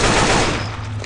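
Dense automatic gunfire in the Dark Tower Gunslinger video game, loud and continuous bursts of rapid shots with rumbling low end, tapering slightly toward the end, with no voices.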